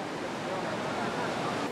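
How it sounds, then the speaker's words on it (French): Ocean waves break at Hossegor beach in the Landes, heard as a continuous broadband surf roar that stays steady and fairly loud throughout. "Il y a beaucoup trop de vagues pour moi."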